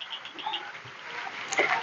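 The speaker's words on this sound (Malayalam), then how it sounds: "മാക്രിയുടെ കരച്ചിലുകൾ തമിഴ് മാക്രി" Frogs croaking in the Cairn Hill reserve forest among pine trees in Tamil Nadu, with scattered short calls at a moderate distance and a faint chirp near the end, no voices.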